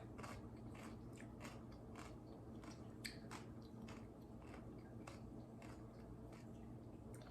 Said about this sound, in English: They are so crispy, crunchy